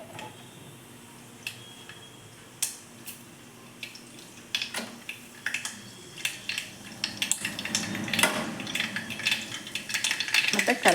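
Mustard seeds dropped into hot oil in a small cooker start to sizzle and pop, scattered sharp crackles and light metallic clinks growing denser toward the end, close and fairly quiet.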